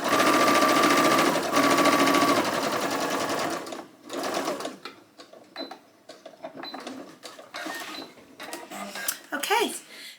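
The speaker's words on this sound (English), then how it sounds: "zigzag the seam allowances together to finish them" A sewing machine zigzag-stitches the seam allowances of a Sew Over It Penny Dress together, running loud and steady for about four seconds before stopping, followed by quieter handling sounds and talk.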